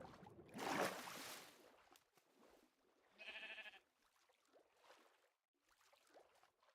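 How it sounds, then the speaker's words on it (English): A sheep in the video game Minecraft gives a single short bleat midway through, fairly clear amid other soft in-game sounds and footsteps. "Hey, sheep."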